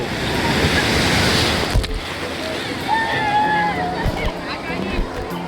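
Sea waves wash in at Digha beach, a broad loud surf roar that eases after a couple of seconds. Faint whistles and indistinct voices carry over the water.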